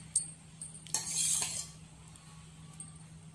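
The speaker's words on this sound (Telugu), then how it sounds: "లాస్ట్కి మనం ఇందులో కర్డ్ వేసుకుందాం పెరుగు" A metal spoon taps and scrapes against a bowl while curd (yogurt) is added to methi paratha dough: a few scattered light clinks, then a brief scraping clatter, with quiet between.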